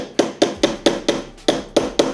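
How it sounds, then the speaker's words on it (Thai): Eight light, regular hammer taps drive a metal pin into the shaft of an 18-inch Hatari Slide Smart L1 fan, each strike crisp and close, repeating steadily with nothing else audible. "ค่อย ๆเคาะ"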